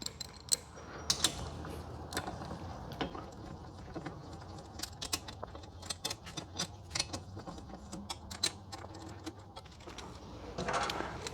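Ratchet with a 14mm socket tightening button head bolts on a Suzuki GSX-S1000GT touring peg mount, giving close, irregular clicking and creaking mechanical sounds in a quiet workshop setting.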